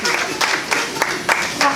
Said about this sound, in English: We can clap if you want.